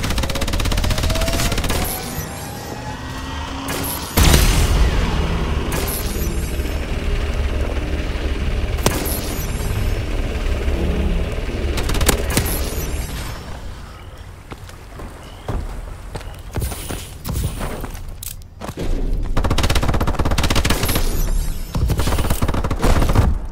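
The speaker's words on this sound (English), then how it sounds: "Friendly missile strikes incoming. Friendly Vulcan above." Missile strikes and Vulcan gunfire in a multiplayer shooter: sustained loud fusillades, repeated heavy impacts and sweeping whines fill the clip and keep rising and falling.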